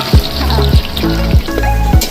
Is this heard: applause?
no